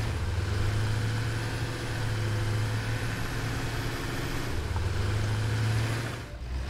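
A tractor engine in the Satisfactory video game runs steadily with a low droning hum, loud and continuous with no talking, then cuts off briefly near the end.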